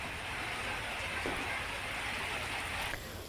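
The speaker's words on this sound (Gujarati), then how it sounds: "વરસાદ વરસી રહ્યો છે" Monsoon rain falls on the Kim area of Olpad taluka in Surat district, a steady, fairly quiet wash of hiss with no voices over it.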